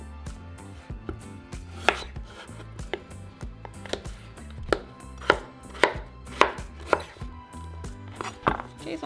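Knife chopping vegetables into bite-size pieces on a cutting board, a steady run of crisp, close knocks at an uneven rhythm, some strokes sharper and louder than others, with no talking.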